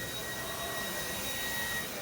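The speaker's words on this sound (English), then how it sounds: "Vacuuming." A vacuum cleaner running with a steady, continuous whining drone, close and fairly loud, inside a Best Buy store.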